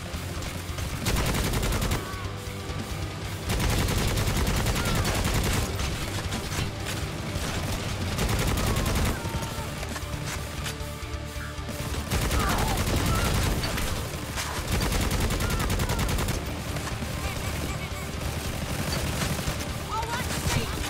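Dense, continuous gunfire from the video game Necromunda: Hired Gun, with rapid bursts and heavy booms running loud and nearly unbroken throughout, a voice faintly talking beneath the shooting.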